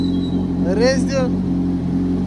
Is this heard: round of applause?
no